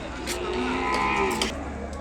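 A single Ongole bull gives a long, resonant moo at a cattle market in Kodada, Telangana, heard fairly close and loud over a low background murmur.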